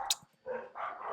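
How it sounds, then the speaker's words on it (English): Dogs bark close by in a quick burst: a sharp yelp, then two longer, fuller barks, loud with no talking over them. "And my dogs are barking."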